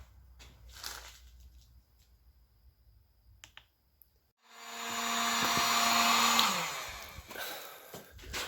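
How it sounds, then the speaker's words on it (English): A heat gun warms fresh paint on a car's suspension axle, blowing a loud whooshing fan-and-air roar for a couple of seconds after quiet clicks and handling noises, then cutting off. "I'm going to go ahead and heat up my paint and then also follow up all my sprays with a heat gun."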